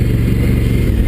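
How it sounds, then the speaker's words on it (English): Loud, steady exhaust drone from a 2016 Honda Africa Twin motorcycle being ridden off-road, a close continuous low rumble with wind noise over it. "I think I've already mentioned the exhaust noise is really loud."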